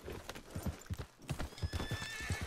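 Horse hooves clip-clopping at a gallop in the Red Dead Redemption II video game, a quick uneven drumming of hoofbeats with a brief whinny, moderately loud over faint background ambience.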